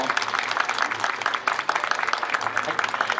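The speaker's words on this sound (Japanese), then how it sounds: "どうぞ今一度大きな拍手をお送りください" An audience at the ALOHA YOKOHAMA 2022 hula talk event gives sustained, fairly loud applause after the talk, a dense patter of many hands with a voice briefly heard over it.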